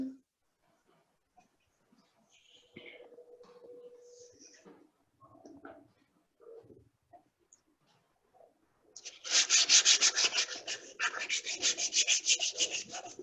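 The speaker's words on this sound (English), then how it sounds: "Now I do this just to remove the circular marks from the sanding." Speech-like murmurs at first, then a loud, steady run of hand sanding on wood: rapid back-and-forth rasping strokes that continue to the end.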